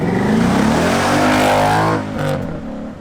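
A Ford Mustang RTR Spec 2 race car with an AEM intake revs hard with a deep, throaty exhaust, climbing in pitch then easing off, loud and close.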